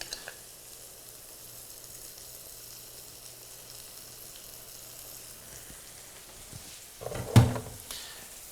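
A steady, faint sizzle of pork chops frying in a hot cast iron pan runs throughout, broken near the end by a brief clatter.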